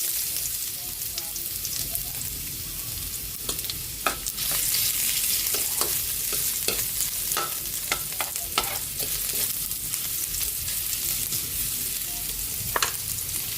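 Ginger sizzling steadily in hot oil in a pan, a dense crackling hiss throughout with scattered sharp pops and scraping stirs, close and fairly loud.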